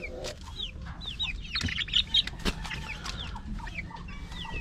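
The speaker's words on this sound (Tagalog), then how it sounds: "nandito na tayo sa kulungan ng aking mga 2 months old na mga manok mga babaeng manok" Several two-month-old Rhode Island hens cluck and chirp in short, overlapping bursts, close by in a coop, with a steady low rustle of activity underneath.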